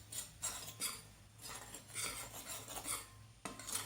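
A spoon stirs salt into a bowl of homemade puffy paint. Quiet, close scraping and clinking strokes repeat in an uneven rhythm with no speech.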